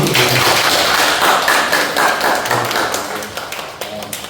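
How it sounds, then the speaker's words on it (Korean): Audience at a Gunsan YMCA youth meal-truck tenth-anniversary meeting clapping loudly and densely throughout, a sustained burst of many hands that tapers slightly toward the end, with some murmuring voices underneath. "박수!"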